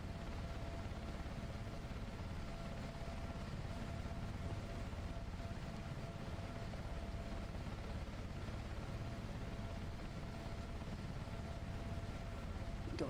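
A Sea King helicopter climbing in flight: a steady, loud, unbroken engine and rotor drone with a faint tonal hum running throughout, heard from close by.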